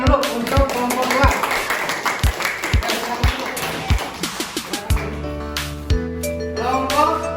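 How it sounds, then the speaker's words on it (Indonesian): Rhythmic, evenly spaced hand claps from a class of student teachers applaud a presenting group in a classroom, crisp and close, followed by a few sustained tonal notes toward the end. "Tepuk tangan dulu untuk kelompok 2."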